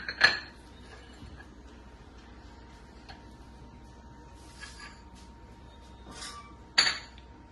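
Plates clinking as shallow-fried tikki and deep-fried balls are moved onto a serving plate, a few sharp clinks at the start and near the end, with quieter faint taps in between and no voices.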